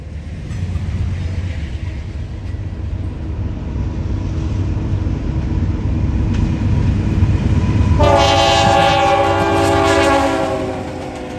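A heavy freight unit train rumbles past close by with a steady low roar, then a loud horn blares over the rolling noise near the end.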